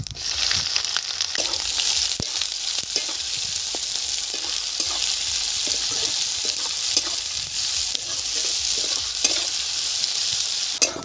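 Onions frying in a pan with cardamom, cloves, a little cinnamon and cumin, a steady close sizzle over the whole stretch, broken by the scrape and clack of a spatula stirring at uneven intervals.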